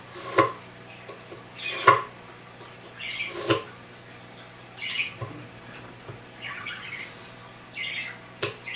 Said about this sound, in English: just chopping up some peppers